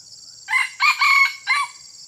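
A wild jungle fowl rooster crows up close in Sumatra, giving one broken, multi-part crow with short bursts, a longer middle section and a final note, over a steady high-pitched background hum.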